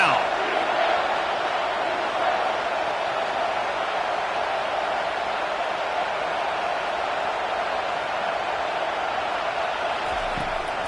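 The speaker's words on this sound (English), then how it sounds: "Here comes this home crowd as the defense tries to get off the field on third down." Home crowd at a football game roaring steadily on a third-down defensive stand, a dense, sustained wall of cheering and noise from a large stadium audience that holds at a constant loud level throughout.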